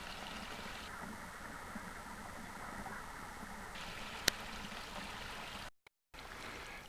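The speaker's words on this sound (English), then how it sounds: "We've even got a waterfall." Constant rushing water fills the scene, a steady broadband roar with a brief dropout near the end.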